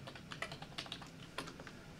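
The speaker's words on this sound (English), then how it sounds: "So I'm gonna type in my password," A password is typed on a computer keyboard: a short, quiet burst of irregular key clicks and taps, close by with no voices.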